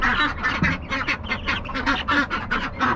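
A flock of ducks, just let out of their coop, quacks rapidly and loudly close by, the calls overlapping in a rhythmic, chattering run.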